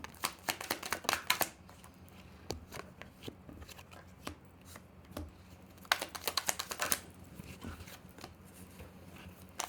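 Tarot cards being shuffled and handled in a tarot reading, giving clustered bursts of crisp riffling clicks and flicks that start and stop, close to the microphone with no voices.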